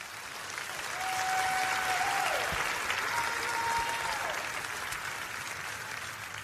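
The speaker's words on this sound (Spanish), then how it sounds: "vamos a dar al Señor un aplauso como debemos." A church congregation applauds during a Spanish-language sermon, steady dense clapping from a large crowd that swells, holds for several seconds and slowly tapers off, with no speech over it.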